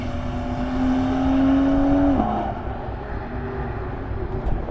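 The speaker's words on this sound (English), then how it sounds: "listen to the NASCAR" Race car engines drone and whine nearby, one pitch rising steadily before dropping as a car passes, with a rumbling roar underneath.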